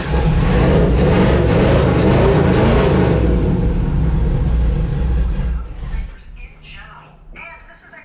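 A 1986 Chevrolet Camaro engine runs roughly and barely keeps going, a loud uneven rumble with voices over it that sags and fades out near the end.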